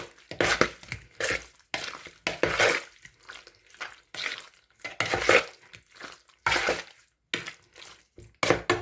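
Irregular bursts of scraping and clinking as a spiced fish mixture is stirred in a bowl for preserving, close and fairly quiet, separated by short silent gaps.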